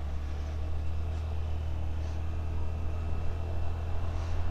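Honda Activa 125 scooter climbing uphill, its small engine giving a steady low droning hum under constant wind noise, even and unbroken throughout.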